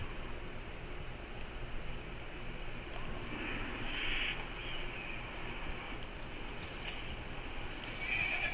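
A horse in the video game Red Dead Redemption 2 neighs and its hooves clip-clop, heard over a steady hiss of background noise with no talking.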